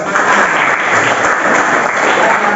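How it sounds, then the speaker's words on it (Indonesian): A school class bursts into applause, loud, close and continuous clapping from many young hands that stays even from start to finish. "tepuk tangan dulu"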